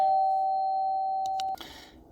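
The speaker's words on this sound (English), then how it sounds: "Doorbell ring for confirmation" A single doorbell chime rings clearly in a quiet home, holding one sustained electronic tone for about a second and a half before cutting off, followed by faint rustling.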